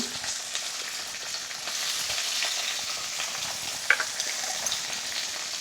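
Onions and tomatoes sauté in a pan, making a continuous, fairly loud close sizzle with faint scraping from stirring and one brief knock partway through. No voices are heard.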